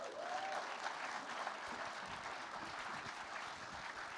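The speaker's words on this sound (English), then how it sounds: "ladies and gentlemen, give a big cheer for Leo Varadkar" An audience applauds at the introduction of Leo Varadkar at an in-conversation book event, a dense, steady wash of clapping heard from some distance and fairly faint, with no distinct cheers.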